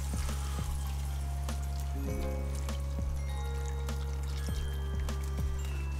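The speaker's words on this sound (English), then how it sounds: "we are going in with about a litre of vegetable stock" About a litre of vegetable stock pours into a high-sided gravy pan on a barbecue, a steady liquid stream with a few drips and a low continuous hum beneath, no voices.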